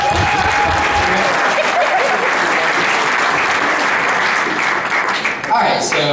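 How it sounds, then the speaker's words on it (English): Wedding guests give Andy and Hannah a sustained round of applause, dense and steady clapping from a crowd filling the room, with some cheering mixed in. "Another round of applause for Andy and Hannah"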